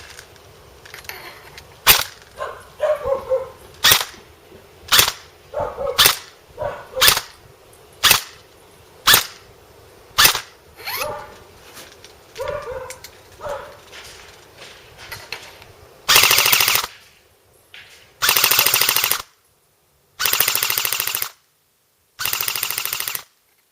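Upgraded airsoft gun firing on full auto at about 800 rounds a minute: a run of sharp single shots, then several loud sustained bursts separated by brief pauses, close and without talk.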